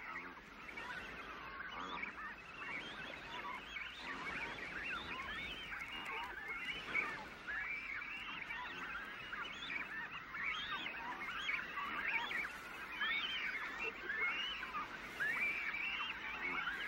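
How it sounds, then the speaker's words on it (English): A crowded colony of imperial cormorants on the Patagonian shore squabbles at their nests, a dense, continuous chorus of harsh honking and grunting calls from many birds at close range. "imperial cormorants nest practically on top of each other and squabble"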